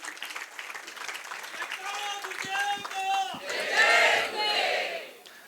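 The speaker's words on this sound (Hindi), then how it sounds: "एक बार जोरदार तालियां ऐसे संघ के लिए।" A crowd at a Jain community assembly in Pune claps while voices ring out in shouted, chant-like cheers that swell toward the end, all moderately distant and busy.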